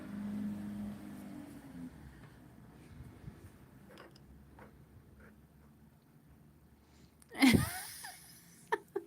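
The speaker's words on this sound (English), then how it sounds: "Bless you" A single sharp sneeze bursts out near the end, loud and close, following a stretch of quiet room sound and soft movement during a watercolour painting session.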